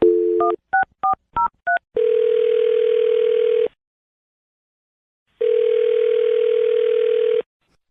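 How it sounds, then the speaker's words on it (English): Telephone keypad tones beep in a quick run of six short presses, then a steady ringback tone sounds twice, each burst lasting nearly two seconds with a pause between, loud and close with no talking. "I'm going to dial her phone number right now"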